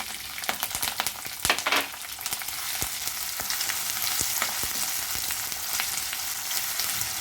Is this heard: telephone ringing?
no